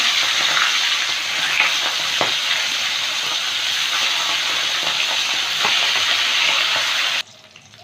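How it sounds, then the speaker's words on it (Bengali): Hilsa fish heads coated in salt and turmeric sizzle in hot oil, a loud, steady, dense crackle that runs without pause and then cuts off abruptly near the end. "প্রথমে মাছের মাথাগুলো ভেজে নেব"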